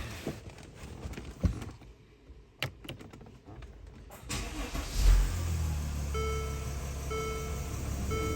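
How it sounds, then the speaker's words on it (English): A 2016 Mercedes GL350 with the OM642 diesel engine, 329,000 miles, cranks and fires up, then settles into a steady, close idle hum with a faint periodic whine after some quiet clicks and taps. "we're gonna go ahead and start the engine and let the car run for 15 minutes."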